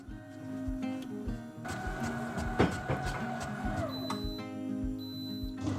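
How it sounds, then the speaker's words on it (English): An electric mixer beats cookie dough in a bowl, its motor whine shifting in pitch over a rattling, scraping clatter that swells and settles, heard close. "mix for 2 more minutes until smooth and combined, scraping the sides of the bowl carefully to combine all ingredients."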